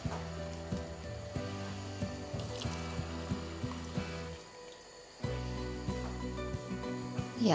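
Water is poured into a pan of rice and lentils for khichdi, a close, gurgling stream that rises in pitch as the pan fills, pausing briefly before a second pour.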